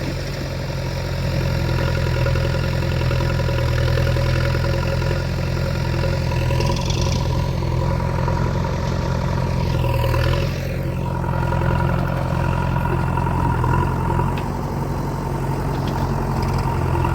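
A tractor engine idles nearby in a steady low diesel rumble, loud and unbroken, with a few faint clunks and rattles over it.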